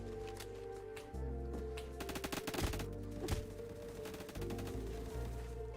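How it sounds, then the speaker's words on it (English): Rapid bursts of automatic gunfire in the video game Phantom Forces, crackling volleys coming in clusters over a low background hum, moderately loud and somewhat distant. "Sounded like someone was shooting at me from behind"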